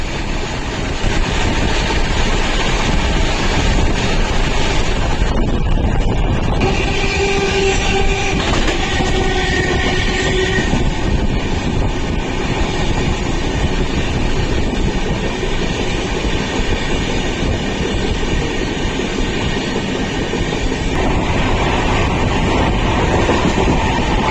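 The Goa Sampark Kranti Express passenger train rumbles steadily at close range, heard on board, wheels clattering over rails near Lakheri, with brief horn-like tones sounding midway through.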